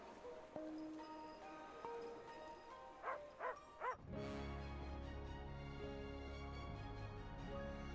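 Several dogs bark and yip in the video game Fantasian Neo Dimension, a few short bright barks standing out before a dense, sustained layer of game music and ambience takes over.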